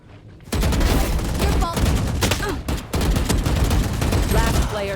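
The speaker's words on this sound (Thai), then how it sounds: "ผมเป็นอะไรกับโอเมน่ะยิงไม่โดนเลยอะ" Sustained rapid gunfire from the video game Valorant, loud and nearly continuous with a brief pause, with faint voice traces underneath.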